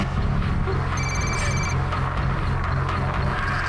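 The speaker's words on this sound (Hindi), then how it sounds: "फिर इसी नंबर से फ़ोन कॉल भी आया" A telephone rings for an incoming call: a single short electronic ring burst cuts through a loud, dense wash of background noise, with no speech.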